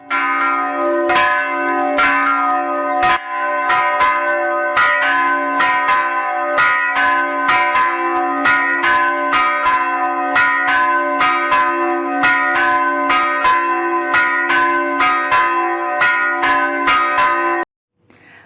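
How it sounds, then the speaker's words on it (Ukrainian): Easter church bells ring loudly with a steady succession of clanging strikes, their overlapping tones sustaining for about seventeen seconds before stopping abruptly, with no voices present. "Давайте послухаємо і ми, як звучать великодні дзвони."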